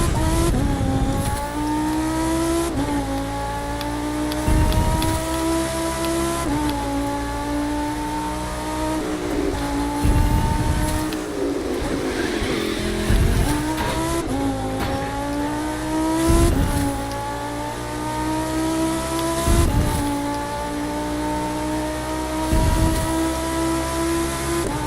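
A loud race car in The Crew 2 drives into San Francisco, its engine revving hard with repeated gear shifts that drop and climb in pitch, and tires squeal now and then.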